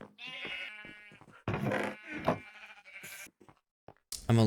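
Minecraft sheep bleat several times in a daytime game world, wavering nasal calls at moderate loudness with short pauses between them, and a few soft clicks and game noises in the gaps; no speech.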